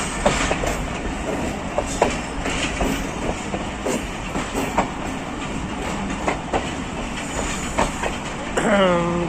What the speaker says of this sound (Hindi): ये लूप लाइन पर आ गई है ट्रेन हमारी।